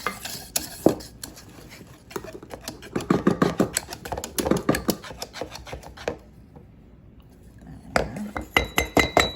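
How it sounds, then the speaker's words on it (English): Powdered sugar being stirred into chocolate frosting for a Texas sheet cake, with a spoon scraping and clinking against a bowl in bursts of rapid strokes, a short pause, then more stirring. "Stir it up, Noah."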